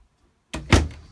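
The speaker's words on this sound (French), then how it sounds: "Tiroir à ustensiles." A utensil drawer slides shut with a quick rolling rush ending in a solid thunk, close and loud after a moment of silence.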